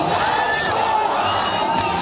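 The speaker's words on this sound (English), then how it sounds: "Crowds gathering in the middle of the night to welcome home their negotiators from Geneva like conquering heroes" A large crowd in Tehran at night, cheering nuclear negotiators returning from Geneva: a dense, continuous roar of many voices shouting and whooping, steady and loud throughout.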